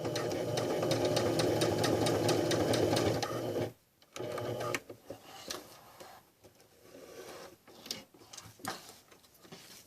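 Sewing machine stitching elastic on a swim diaper runs in a steady rapid mechanical whir for a few seconds, then stops, followed by quieter clicks, handling noises and fabric rustle.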